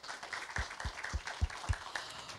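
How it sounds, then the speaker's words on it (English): Scattered audience clapping at an investment forum in Jakarta, a thin, uneven patter of hands with a few sharper claps standing out, moderately distant and short-lived. "let us give them a big round of applause"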